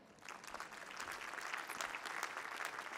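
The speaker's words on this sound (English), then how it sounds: "So it certainly does deserve a round of applause." A large audience at an MIT commencement claps in a dense, steady wave of applause that holds evenly for several seconds, heard from a distance with no talking.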